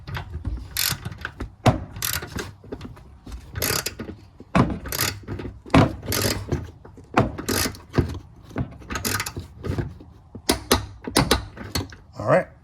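A torque wrench is tightening a spark plug on a 2019 Subaru Outback. It gives repeated sharp ratcheting clicks in quick bursts, with a talking voice between some of them.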